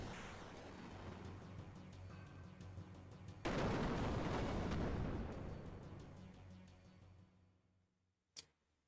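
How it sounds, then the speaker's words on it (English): An enemy blows up in the Xenogears video game, a sudden loud burst of noisy roar that swells and slowly fades over several seconds, followed by a brief sharp click near the end. "Yeah, he's exploding."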